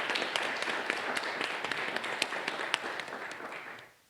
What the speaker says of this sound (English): Please give us a round of applause as she makes her way to the stage.